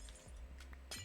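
Glass blocks shattering in Minecraft, a few short, bright breaking crunches spread across a second over a steady low hum.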